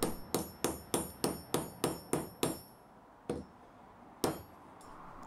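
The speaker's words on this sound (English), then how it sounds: "then give it a few bashes with a hammer just to crimp it down" A hammer strikes a brass tube covered with scrap leather to crimp it onto a leather lace: about nine quick, evenly spaced metallic blows, then two separate final strikes, close and clear with no speech.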